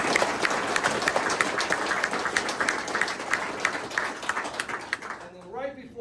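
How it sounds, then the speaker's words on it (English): Audience applause at an installation of officers ceremony, steady dense clapping from a crowd that fades out near the end, with a voice starting to speak as it dies down. "And a big round of applause for all of them."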